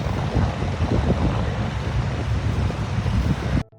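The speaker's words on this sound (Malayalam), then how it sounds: "നല്ല കാറ്റ്." Strong wind buffets the microphone at a US highway rest area on a road trip, a dense continuous roar that holds steady for several seconds before cutting off abruptly.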